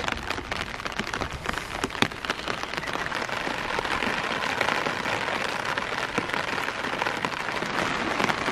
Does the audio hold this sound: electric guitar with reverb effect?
no